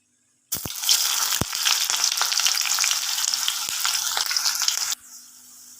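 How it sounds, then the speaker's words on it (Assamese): Onions frying in hot oil with cinnamon and cardamom for a home-cooked meat dish, a loud steady sizzle that starts abruptly, with a few sharp clicks of the pan early on, then drops away to a low hiss. "এইখিনি ধুনীয়াকৈ তেলত ভাজি গৈছে, আৰু এতিয়া পিঁয়াজ দি দিম।"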